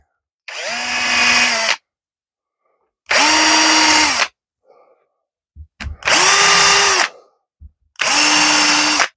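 A power drill boring cribbage peg holes into a wooden board through clear packing tape, four loud close bursts of whining motor and cutting, each about a second long with short pauses between, spinning up and biting into the wood.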